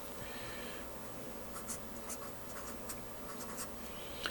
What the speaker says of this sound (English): We're going to write that down so I don't forget.